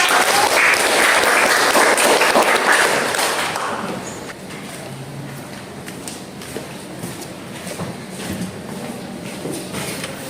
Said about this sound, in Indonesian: silakan berikan aplaus kepada kelompok